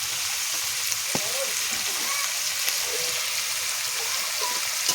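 Fish frying in a pan over a wood-fired stove: a continuous bright sizzle and crackle with scattered small pops, moderately close and steady throughout.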